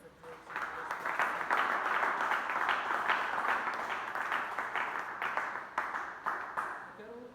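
A church congregation claps in a warm, sustained round, individual hand claps audible within the crowd, rising quickly and holding for several seconds before thinning toward the end.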